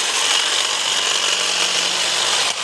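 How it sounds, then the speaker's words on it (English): An old, worn Ryobi hedge trimmer cuts through a bush with a loud, continuous rasping buzz of reciprocating blades close by, cutting off abruptly at the end, with no talking. "this is the Ryobi. A little bit louder since it is older and worn out"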